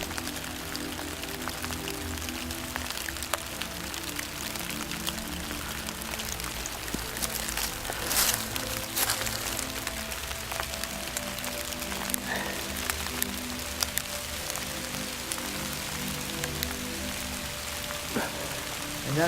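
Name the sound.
water flowing out from under pile of wood chips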